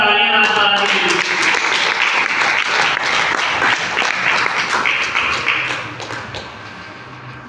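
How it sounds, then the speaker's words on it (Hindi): Loud applause from an audience for Rajpal, a teaching professor, sustained dense clapping that starts strong and gradually fades toward the end, with some voices mixed in. "एक बार जोरदार तालियां राजपाल के लिए।"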